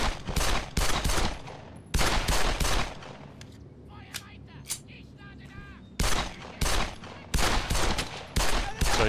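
Bursts of squad suppressing gunfire in a World War II shooter, sustained volleys of rapid rifle and machine-gun shots, loud and close, with brief quieter pauses between the long strings of fire.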